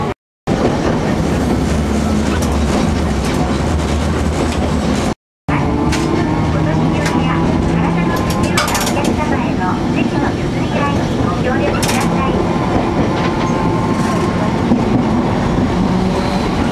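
Nagasaki tram rolling along its street track, a loud continuous rumble with rattling and clicking from the car, heard from aboard with people chatting over it.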